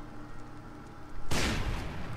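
A sudden loud blast from a gunshot in the Western shooter Call of Juarez: Bound in Blood, hitting hard at once and rolling into a long crackling tail, after a low quiet game background.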